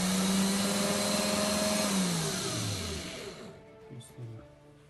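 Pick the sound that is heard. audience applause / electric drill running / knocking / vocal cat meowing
electric drill running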